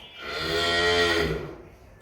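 A nine-month-old Friesian heifer calf lets out a single drawn-out moo, rising and fading over about two seconds, close by on a farm.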